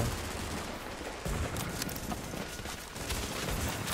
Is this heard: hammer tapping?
no